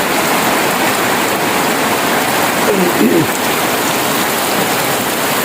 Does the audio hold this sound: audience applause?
no